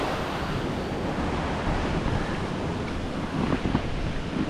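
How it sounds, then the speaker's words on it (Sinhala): Floodwater rushing strongly past a concrete slab during flooding in Gampaha, a steady, loud broadband roar of moving water that holds constant throughout with no voices. "මාර වතුර පාරක් යනවා"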